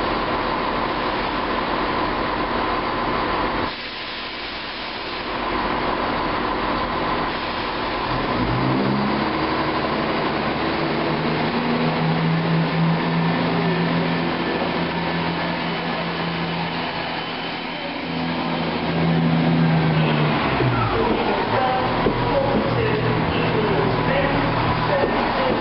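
Cross Country Class 170 Turbostar, a three-carriage diesel unit, departing Derby station: a steady engine drone rises and holds amid station ambience before fading, with people talking nearby.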